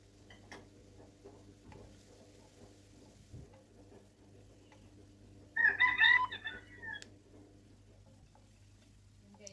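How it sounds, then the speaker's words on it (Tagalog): A rooster crows loudly from home CCTV in the Philippines, one bright burst of about two seconds in the middle, over a steady low hum and faint background clatter. "naririnig nyo yung tilaok ng manok guys"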